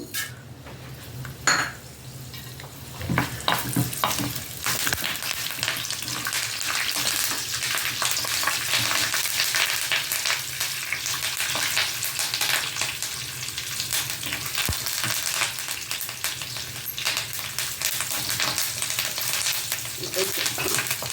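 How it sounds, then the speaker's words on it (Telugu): Urad dal, mustard seeds, cumin, dried red chillies and curry leaves sizzle steadily in three tablespoons of hot oil for an okra fry, with occasional stirring scrapes and faint pan clinks. "తాలింపు దినుసులు మినపప్పు, ఆవాలు,"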